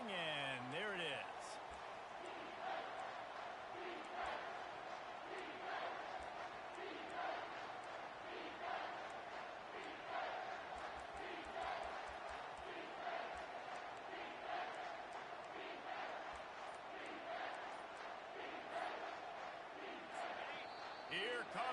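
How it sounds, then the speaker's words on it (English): Sustained roar of a home football crowd during a third-down play, steady and heavy throughout, with scattered claps and shouts rising out of the din and a commentator talking over it. "Here comes this home crowd as the defense tries to get off the field on 3rd down"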